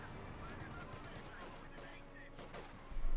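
Gunfire in the strategy game Company of Heroes 2: fairly quiet, rapid bursts of automatic fire crackle in the distance as a battle goes on, with a heavier thump near the end and a voice talking over the action.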